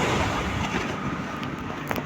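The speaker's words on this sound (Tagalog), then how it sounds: "medyo mangin-hangin pa rin at maalon" Steady wind buffeting around a service boat out at sea in choppy, wavy conditions, a continuous broad rush with no voices.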